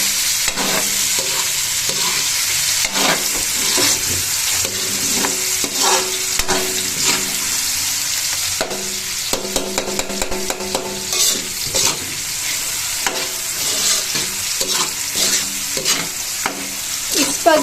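Spaghetti sauce stirred in a frying pan, a spoon scraping and clacking against the pan in uneven strokes over a continuous close sizzle, with no talking.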